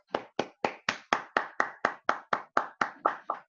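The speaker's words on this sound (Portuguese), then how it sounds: "Eu quero uma salva de palmas para você" Steady applause of a small group, about fifteen evenly spaced claps in a regular rhythm, close and clear with no talking.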